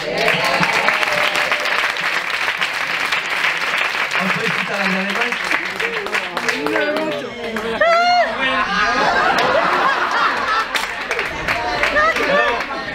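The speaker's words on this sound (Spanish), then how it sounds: "te has ganado un aplauso de todo el público" Festival audience applauding in a large crowd, dense clapping with cheers, laughter and chatter; a loud voice speaks over the middle stretch before the applause swells again.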